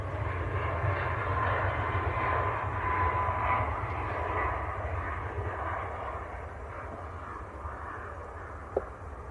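Airliner getting airborne at Manchester Airport, a broad steady engine roar with low rumble heard from a distance, fairly faint and even throughout, with a brief click near the end.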